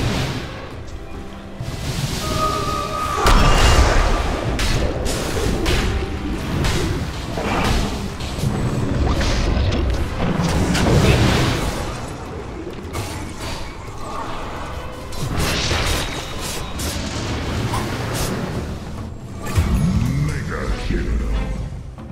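Dota battle din with towers under attack: repeated booms, crashes and artillery-like impacts rolling continuously, fairly loud, with an announcer voice over the fighting.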